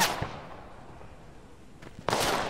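Two sharp gunshot bangs in the video game Fog of War, one near the start and a louder, longer blast near the end, separated by a quiet stretch of low background noise.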